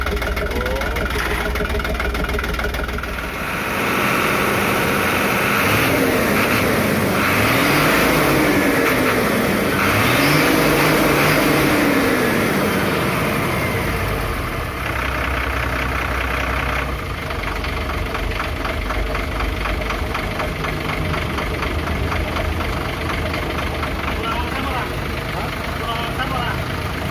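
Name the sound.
Dina 130 HT / Fuso 220 Ti truck engine running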